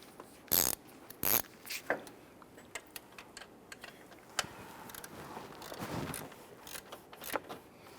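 A ratchet tightens the alternator cable nut on a 2005-2010 Chrysler 300, giving quiet bursts of rapid clicking with short pauses between strokes, close by and faint.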